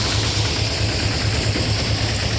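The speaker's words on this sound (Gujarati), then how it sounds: "આપણું મિની ટ્રેક્ટર છે, મહેન્દ્રા ટાઈગરનું થ્રેસર છે।" A Mahindra mini tractor engine runs a threshing machine for castor beans, chugging steadily with a regular low throb and a constant mechanical roar.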